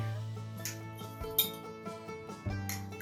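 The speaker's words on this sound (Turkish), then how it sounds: "ben iki kaşık granül kahve koyacağım ve güzelce karıştıracağım" A spoon stirs granulated instant coffee and a spoonful of sugar in a cup while making tiramisu, giving light repeated clinks and scrapes against the sides in a steady rhythm, close and clear, with no talking.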